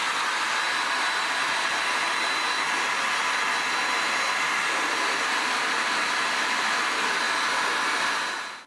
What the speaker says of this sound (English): I am going to put the hot air gun on just specifically here